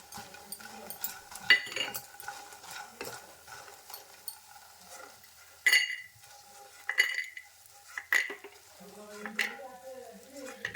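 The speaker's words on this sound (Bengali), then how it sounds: "দেখুন পুরোপুরি ভাজা হয়ে গেছে এবার আমি বড়িগুলো তুলে নিচ্ছি" Fried lentil dumplings (bori) are lifted from hot oil with a metal utensil, giving close, sporadic clinks and scrapes against the pan over a soft sizzle, while someone talks.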